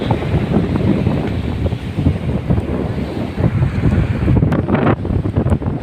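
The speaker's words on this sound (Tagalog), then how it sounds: "Lakas ang hangin." Strong wind roars and buffets the microphone continuously at the seashore, with a surf-like rush underneath and no voices.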